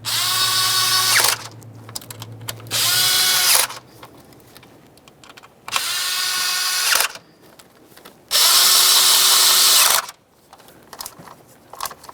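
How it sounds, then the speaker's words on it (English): A power tool runs ignition coil mounting bolts into a 1998–2011 Ford Ranger 2.3L four-cylinder engine in four loud, whirring bursts separated by quieter ratcheting and handling noises, close by with no talk. "Start in all 4 of your mounting bolts, snug them up, and then torque them to 53 inch-pounds."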